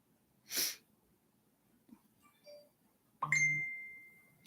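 A mobile phone notification rings out as a single bright ding near the end and fades slowly, after a sneeze-like burst and faint small tones in a quiet room.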